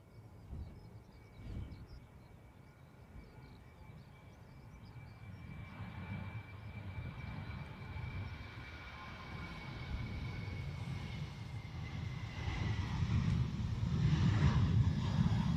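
An airliner departs from Dublin Airport, its engine roar starting faint and distant and building steadily into a loud, broad rumble by the end.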